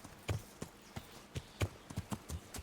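Horse hooves clip-clop in an irregular, galloping rhythm while riding in the Kingdom Come Deliverance video game, fairly faint over a low ambient background.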